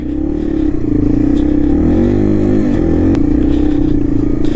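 Yamaha TW200 dual sport motorcycle riding through falling snow, its engine droning loud and steady throughout with a rising rev and harmonic shifts midway, plus light clatter.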